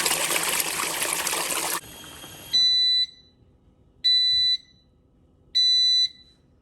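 A compact washing machine set to a two-minute cycle: water rushes loudly for about two seconds, then three evenly spaced, piercing electronic beeps sound from its control panel against near silence.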